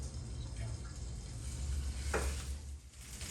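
Flour-coated food fries in oil in a pan with a faint, steady sizzle and a low background rumble, plus a brief soft stirring scrape.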